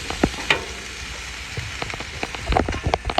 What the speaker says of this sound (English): I like to hear that sizzle